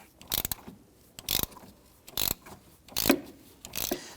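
Ratchet working a 12mm socket with an extension to loosen the battery clamp bolt on a 2011-2015 Kia Sorento: five separate bursts of rapid clicking, close and fairly loud, with quiet gaps between them.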